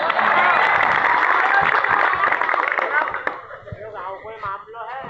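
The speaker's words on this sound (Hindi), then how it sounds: "छा गए राकेश भैया, छा गए। तालियां।" Audience applause and clapping at a Hindi heroic-verse poetry recital swell loudly at first, then fade into scattered claps and crowd murmur with voices talking over them.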